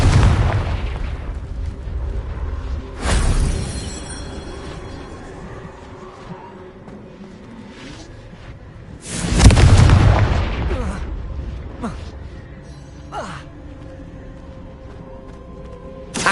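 Confringo fire-blast spells go off in Hogwarts Legacy gameplay. Several loud booming explosions come seconds apart, and each one trails off into a rumbling decay over quieter game ambience.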